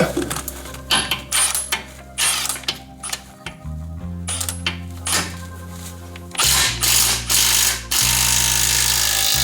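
A ratchet pulls bolts while a 2.5-inch ReadyLIFT front leveling kit goes onto a truck, giving close, loud bursts of rapid clicking separated by short pauses, with metallic clinks in between.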